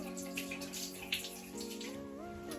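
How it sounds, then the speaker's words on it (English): Water runs steadily from a tap while a lip sugar scrub is rinsed off, a soft continuous splashing wash with a faint tonal drone underneath and no clear speech. "I'm gonna like rinse it off and like scrub it at the same time."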